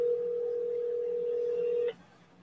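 A telephone line sounds a single steady electronic tone for nearly two seconds before it cuts off, leaving quiet hiss.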